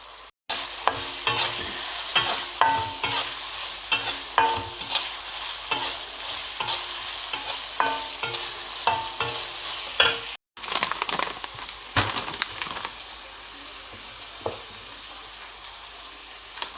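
Maggi noodles with vegetables sizzle in a pan while a spoon scrapes through them in quick, rhythmic stirring strokes, with a brief pause before the stirring resumes more gently.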